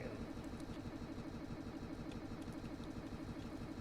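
Boat engine room in the video game Stormworks, a steady low mechanical engine drone with a continuous rumbling pulse, even in level throughout and heard alone.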